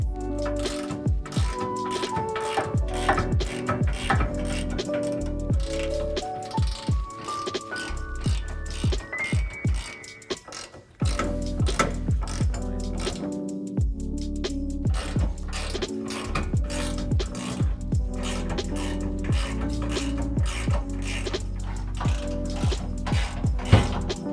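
A ratchet wrench loosens bolts on a 2015-2020 Ford F150 rear hitch assembly during an off-road bumper install, with rapid, continuous clicking of the pawl, close and loud, and a brief pause midway.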